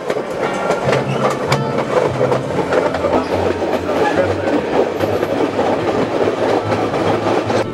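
White Pass and Yukon Railway train rolling along mountain tracks toward Lake Bennett, with a steady loud rumble and rhythmic clickety-clack of wheels over rail joints throughout, no talk.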